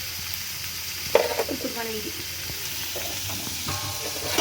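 Sliced onions frying in a pan, a steady bright sizzle with scraping stir strokes partway through, while a voice speaks briefly over it.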